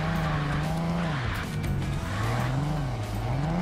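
BMW car in a garage-and-junkyard car game, its tires squealing in a sustained, wavering screech over a steady engine drone, loud and continuous throughout.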